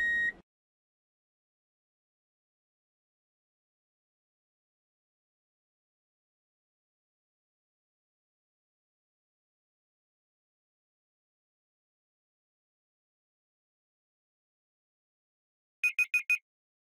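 A short electronic beep at the start, long silence, then a quick burst of three rapid beeps near the end, timing a count of Daphnia magna heartbeats.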